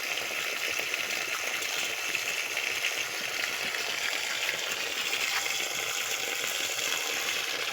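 Water pouring from a public bathing spout in Nepal, a loud continuous gushing splash that stays steady and close throughout with no pauses.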